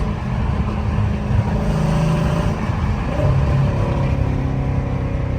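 Dodge Challenger Scat Pack with a 392 engine and deleted catalytic converters roars loudly and steadily from close by, a deep continuous exhaust drone holding for several seconds with no talk.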